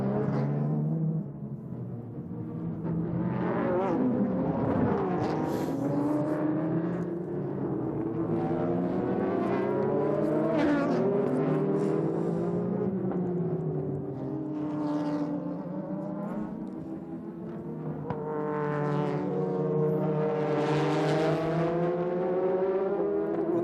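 Super GT race cars lapping the Okayama circuit during a 2006 championship round, engines droning and shifting pitch continuously as several cars pass at mid distance, with no break in the steady racing noise.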